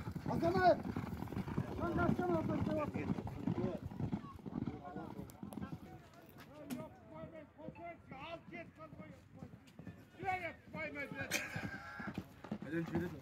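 Rapid hoofbeats of horses galloping in a long-distance race drum beneath loud, excited talking, with the thudding rhythm running steadily throughout.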